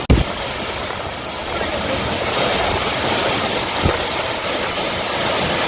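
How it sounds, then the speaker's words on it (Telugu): Madhavaram waterfalls pouring in a steady, loud roar of rushing water, a continuous broadband wash with a couple of brief bumps and a voice faintly underneath. "నిజంగా ఇక్కడ చూడండి ఎలా ఉందో వాటర్ ఫాల్స్."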